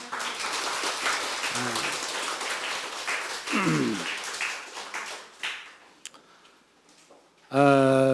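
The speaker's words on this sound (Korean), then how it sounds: "우리 다시 한번 우리 박수를 치십시다." Church congregation clapping during a Sunday morning worship service, a sustained patter of many hands that thins out and fades, with brief voices and a tonal sound at the end.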